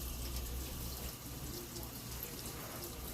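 Hot water running from a tap in an apartment with a weak hot-water supply, a steady close hiss of flow into a basin, continuous and even with no pauses.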